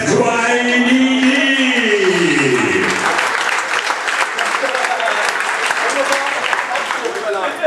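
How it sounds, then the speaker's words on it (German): Crowd applauding a kickboxing fighter at a fight night in Rostock, sustained clapping and cheering that builds after a drawn-out announcer's voice at the start. "Ladies and Gentlemen, der Kämpfer der roten Ecke, Applaus für Youssef Kouainimi."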